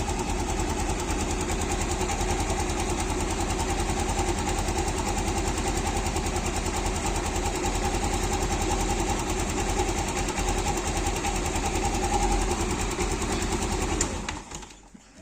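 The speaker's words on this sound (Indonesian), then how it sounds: "Nah, suara mesinnya itu sangat-sangat halus ya." A small engine idles steadily and smoothly with a fast, even ticking rhythm, close up and constant, then cuts off near the end.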